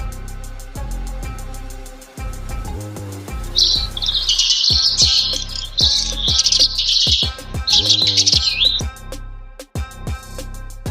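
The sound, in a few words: sparrow chirping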